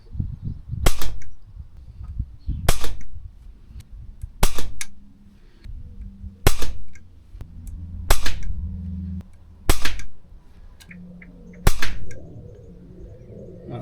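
Air rifle firing pellets at a target card, seven sharp cracks spaced about every one and a half to two seconds, each followed by a brief ring, with quiet handling noise between shots.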